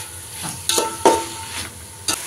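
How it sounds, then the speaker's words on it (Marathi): Chopped tomatoes sauté in a pan with chillies for a masoor pulao, a soft sizzle broken by several sharp scrapes and stirring clacks of a spoon against the pan. "त्याचं पाणी आटेपर्यंत आपल्याला परतायचं."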